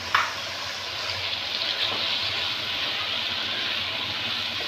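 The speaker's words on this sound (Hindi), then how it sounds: "अभी हमारा गोश्त खूब अच्छी तरह से भुन गया है, तो बस हम इतनी ही दाल शामिल करेंगे इसमें" Lentils tipped into a pan of well-browned minced meat for keema chana dal, giving a steady, moderate sizzle and frying hiss that runs on evenly with a soft clatter at the start.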